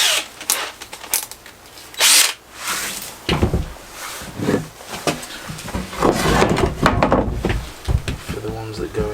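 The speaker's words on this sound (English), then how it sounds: "what I'm going to do is pre-drill this whole plank." A power drill pre-drills a plywood plank for a camper bed build, whirring in several short bursts with pauses between, close by, mixed with clunks of handling and some talk.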